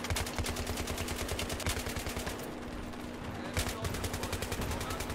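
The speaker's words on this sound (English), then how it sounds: "Oh my god, I'm shooting people behind corners" An M240B machine gun firing in Battlefield 3, sustained rapid automatic bursts in quick regular rhythm, a brief lull near the middle before firing resumes, moderately loud throughout.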